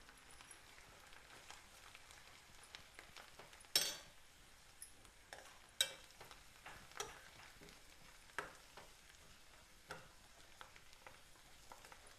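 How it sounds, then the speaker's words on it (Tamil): Coriander leaves fry quietly in oil for thokku, a soft steady sizzle broken by scattered clicks and scrapes as a spoon stirs the pan. "சேர்த்து நல்லா ஃப்ரை பண்ணிக்கோங்க."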